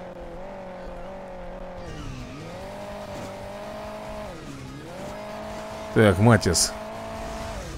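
Sports car engines drone and rev in Hill Climb Racing 2, with a steady tone that dips and climbs again as cars go by. Someone speaks briefly near the end.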